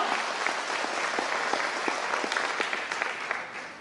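A crowd claps at a business celebration event, a steady mass of applause with distinct sharper individual claps standing out, tapering a little near the close.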